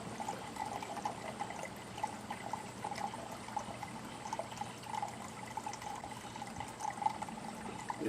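Coolant trickles and gurgles steadily through a hose into a 2019 Ford Edge 2.0 EcoBoost, a continuous close liquid pour with no talk.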